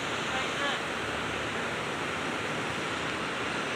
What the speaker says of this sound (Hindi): पानी की आवाज़ बहुत अच्छी आ रही है यहाँ से।